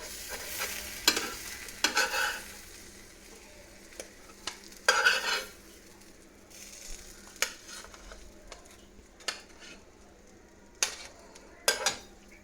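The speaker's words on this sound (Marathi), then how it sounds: "मीडियम गॅसवरती थोडंसं टोस्ट करायला ठेवलंय, बटर मेल्ट होईपर्यंत" Bread pizza toasting in butter in a pan over a medium gas flame, a soft steady sizzle broken by several sharp clinks and scrapes of a utensil against the pan, close by with no talk.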